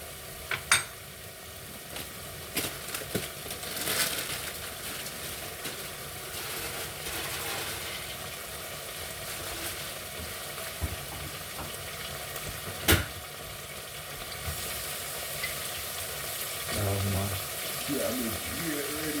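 Steady sizzling of pressed plantains frying in a pan, a continuous crackling hiss close by with a few sharp clinks, and a voice speaking over it.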